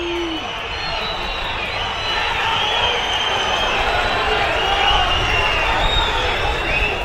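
A football stadium crowd in Paraguay at a Cerro Porteño match, a loud, dense, sustained roar of booing and jeering from many voices that swells slightly and carries on throughout.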